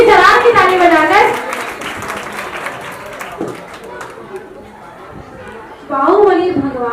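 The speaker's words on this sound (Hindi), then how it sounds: "इसके लिए पुण्य की सराहना की ताली बजाकर" Audience applause at a Jain religious gathering in Shaktinagar, Delhi, a crowd clapping steadily at moderate distance between stretches of someone speaking, with talk both before and after the clapping.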